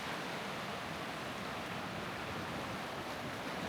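Sea waves break on the beach at Aktaş in Antalya as a continuous, loud, even roar of surf and wind, with no voices.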